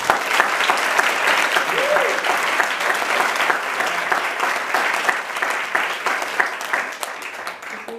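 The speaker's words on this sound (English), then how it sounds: "let's give them one more round of applause" Sustained, dense audience applause for Woman of the Year award recipients at a community ceremony, steady and full throughout before tapering slightly near the end, with no voices over it.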